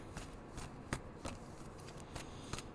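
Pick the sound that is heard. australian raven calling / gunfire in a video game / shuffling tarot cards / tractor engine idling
shuffling tarot cards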